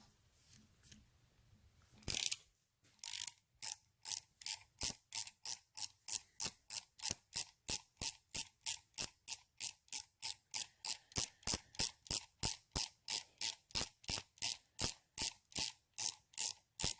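A ratchet wrench loosening nuts on the back of a Harley Davidson Model 61 two-brush generator clicks in a long, fast, even run of sharp ticks after a brief pause and a few opening clicks, close and alone.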